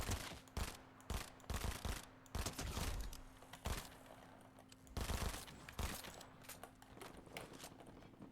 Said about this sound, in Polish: Te pistolety są nawet dobre.